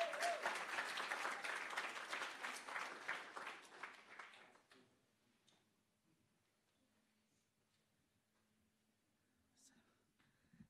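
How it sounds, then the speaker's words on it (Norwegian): An audience claps warmly for a speaker at an event, the applause sustained for about four seconds before fading quickly into near silence with faint scattered small noises. "En stor applaus."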